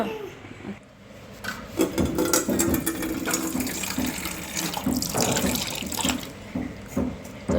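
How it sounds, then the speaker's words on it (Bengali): Tap water runs steadily into a sink to cool a child's egg-based food, a continuous close splashing stream with some rubbing and clattering, no voices. "ঠান্ডা পানি দিয়ে ঠান্ডা করে দিতে হবে ওদেরকে"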